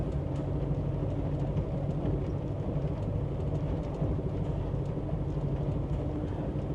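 Steady low rumble of an Amtrak Empire Builder passenger train riding along the rails, a continuous dense roar heard from inside the car with faint clicks and rattles, no talk.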